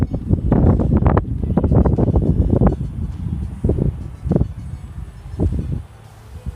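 Strong gusts of high wind batter the microphone outdoors while a Z51 Predator drone is flown, a heavy low rumbling roar that swells and eases throughout without any voices.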